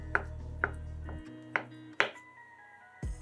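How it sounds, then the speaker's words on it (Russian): A knife slices boiled eggs into rings and then into strips on a cutting board, giving four crisp, close chops spaced irregularly over a faint steady hum. "3 вареных яйца нарезаем кружочками, а затем кружочки режем полосками"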